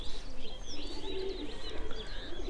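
Domestic pigeons with their wings tied with thread coo in a low, continuous murmur, with lighter chirps from other birds layered above, fairly close and steady throughout.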